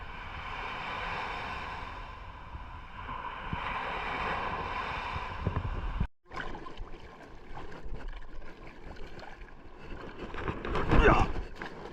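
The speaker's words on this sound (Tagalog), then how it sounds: "Lakas alon. Lakas pa rin na alon eh." Strong sea waves wash and surge around a small boat at sea during a shrimp-catching trip, a continuous rushing roar with gusty wind buffeting the microphone and a brief dropout midway.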